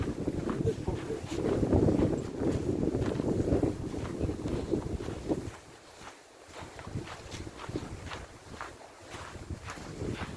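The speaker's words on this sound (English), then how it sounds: "That wind is bitter." Bitter cold wind gusts outdoors and buffets the microphone in a loud, rumbling roar that eases after a few seconds, with faint thumps underneath.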